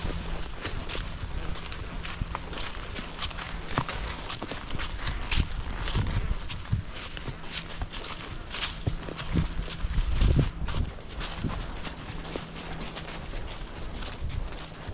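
A bay roan Quarter Horse's hooves clopping at a slow walk, irregular thuds over rustling outdoor noise, close by, with no clear talk.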